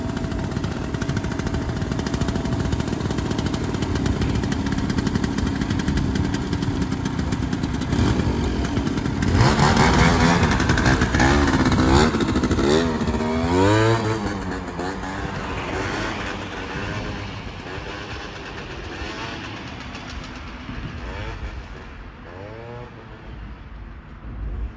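A Piaggio Zip 125cc scooter running after an engine swap gives a loud, buzzing two-wheeler drone that climbs and wavers in pitch as it revs, then settles to a lower, steadier hum toward the end.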